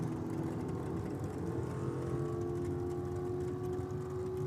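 An FC Holden drag car with a 350 cubic inch Chevy engine idles and holds revs on the start line at a drag racing event, a steady loud engine drone with a sustained whine layered over it.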